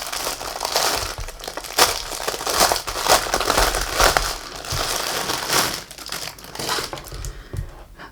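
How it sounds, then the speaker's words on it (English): Paper packaging crinkles and crushes steadily as a small baggie holding a teddy bear's outfit is unwrapped, the rustling loud, close and continuous with sharp bursts throughout. "Now excuse the paper crinkling."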